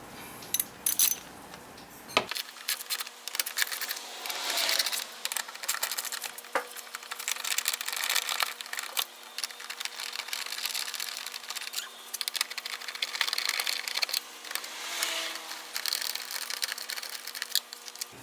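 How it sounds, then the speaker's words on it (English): A ratchet wrench with an 8mm socket clicks in rapid, uneven bursts while loosening small bolts on a car's air filter housing, close and fairly quiet, with faint metallic clinks between runs. "We'll loosen up the 4 bolts using a 8mm socket."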